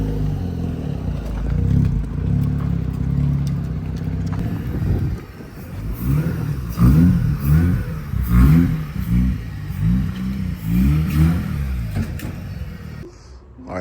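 A Mazda RX8 rotary engine revs on dyno rollers, a loud buzzing drone that surges through a series of rhythmic rises and falls, with clattering mechanical noise around it.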